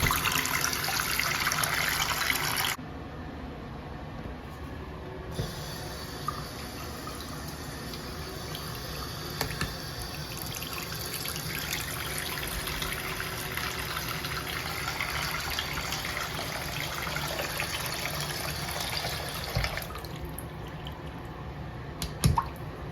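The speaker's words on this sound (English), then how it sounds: "I can feel the water flowing through there nice and smooth." Steady water runs from a newly installed YardMonet bathroom sink faucet, a continuous soft rushing flow with a few faint drips and clicks, fairly close and heard alone without talk.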